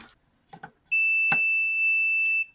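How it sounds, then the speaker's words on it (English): A multimeter's continuity beep, a steady electronic tone that is bright and pure, sounds continuously for about a second and a half, preceded by a couple of brief clicks and taps. "I'm going to put it on continuity mode. It's just going to make a beep"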